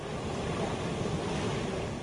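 Hazra waterfall near Nagpur produces a steady, dense rush of falling water, constant and fairly close, mixed with a little wind and no voices.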